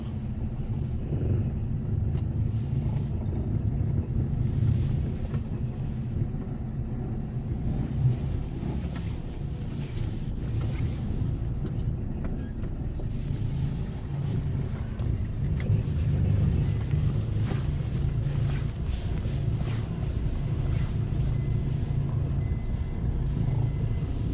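A steady low rumble of morning commuter traffic, passenger cars passing at moderate distance in a continuous flow.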